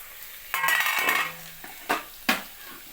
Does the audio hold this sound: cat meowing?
no